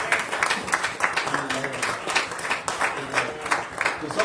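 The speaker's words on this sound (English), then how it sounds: "somebody give the Lord a hand clap of praise" A church congregation claps hands together in steady rhythmic beats, a lively, full sound of many people applauding close by.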